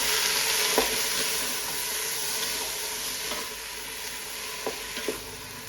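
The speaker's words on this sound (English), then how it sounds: "stir the tarka through all of these vegetables" Tarka being stirred through cauliflower, peppers and chopped tomato in a hot pan, with a steady sizzle and a few soft scraping strokes from the spoon.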